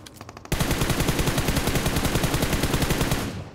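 A rapid, evenly spaced burst of automatic gunfire in PUBG starts abruptly after a few faint shots and rattles on loudly for about three seconds before cutting off.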